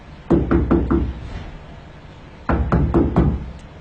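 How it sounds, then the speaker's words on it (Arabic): Someone knocks on a house door, a close, loud burst of four quick raps, a pause of over a second, then another run of four to five raps. "شنو جاي تدق باب بيت؟"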